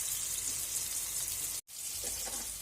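Zucchini rolls stuffed with cheese frying in a pan, a dense close sizzle with a brief gap partway before the crackle resumes, heard without talking.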